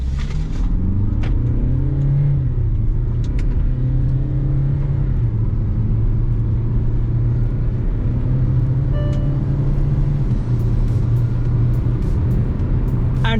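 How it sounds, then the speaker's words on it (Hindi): A 2023 Kia Seltos Facelift GTX Plus diesel automatic accelerating hard from 0 to 100 on an empty road, a loud steady engine drone rising in pitch through gear changes with road rumble heard from inside the cabin. "we are going to test the 0 to 100 of this car"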